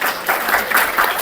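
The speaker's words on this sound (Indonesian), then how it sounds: "Tepuk tangan dulu dong buat HNI." A live audience at an HNI halal tour event bursts into brief, dense applause, loud and close, with many hands clapping at once.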